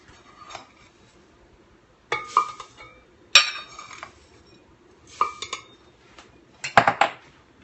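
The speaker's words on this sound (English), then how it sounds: "Let this get stirred up" Oat biscuit bar batter made with rolled oats is stirred in a bowl, and a utensil clinks and scrapes against the dish in several separate bursts of rattling contact, close and clear, with quiet pauses between.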